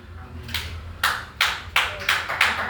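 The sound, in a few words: congregation applauding in church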